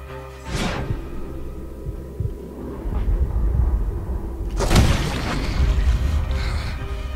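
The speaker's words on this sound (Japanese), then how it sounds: "でもこの銃声でもうバレちゃうんです" Two sharp, booming gunshots ring out in Red Dead Redemption 2, one early and one later, each with a burst of noise over a low rumbling game soundscape.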